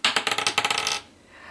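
Astro dice rattle and clatter as they are rolled, a quick burst of about a dozen sharp clicks over one second before settling into quiet.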